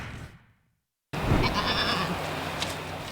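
Goats bleating at a New Richmond aviary after a fire, a wavering bleat rising out of noisy outdoor ambience after a short silent gap, followed by a fainter call.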